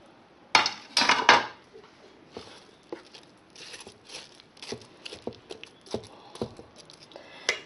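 Chopped apple pieces drop into cake batter in a bowl with a few louder clattering knocks at first, then a run of softer scattered taps and small utensil clinks, close and quiet.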